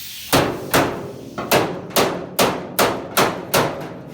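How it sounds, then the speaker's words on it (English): Steady metallic hammer blows knocking dents out of a Chevy pickup's steel body panel, about nine evenly spaced strikes ringing close and loud with no talking. "I'm just taking out these dents."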